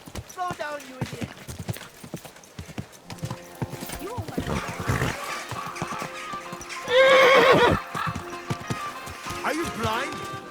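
Rhythmic hoofbeats of a horse at a run in the video game Kingdom Come: Deliverance II, a loud whinnying neigh partway through, and voices talking over the galloping.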